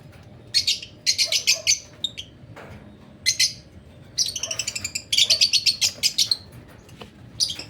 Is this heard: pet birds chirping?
yes